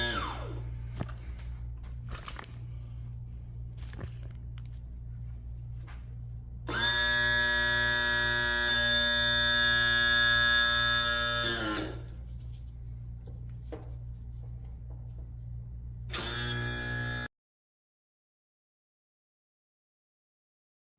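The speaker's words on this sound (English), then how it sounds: "Let's see if we can get the power trim tilt going up and down. Down it goes." An outboard motor's electric power trim and tilt unit whines steadily for about five seconds, stops, then runs again briefly. Each run is close and clear over a low background hum and sporadic clicks.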